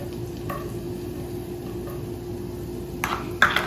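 Garlic cooks in melted butter in a pan over low heat, giving a soft, low sizzle. A few light utensil clinks and taps break through near the end.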